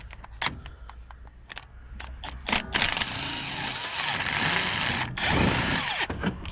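A power gun with a socket works on a bolt of a BMW 7 Series in a repair garage, giving several short rattling bursts and then a longer continuous run, close up.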